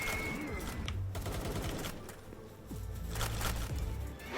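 Enemy gunfire in the video game Palworld, with bursts of rapid shots, a short pause, and then more firing over steady game background noise. The shots are moderately loud.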